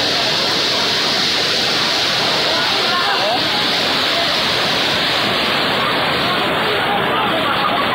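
Floodwater rushes through streets and homes in Valenzuela City with a loud, continuous roar and hiss that stays steady and close, while people talk faintly beneath it.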